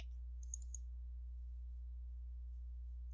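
Two quick computer mouse clicks open a file in a word processor, sharp and close together near the start, followed by near silence over a steady electrical hum.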